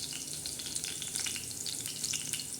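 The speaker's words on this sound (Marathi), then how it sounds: "मस्तपैकी असा तडका लसणाला द्यायचा." Garlic tempering in hot oil for a dry cowpea bean dish, a fine, continuous crackling sizzle with small popping spatters, close and fairly soft, no voices.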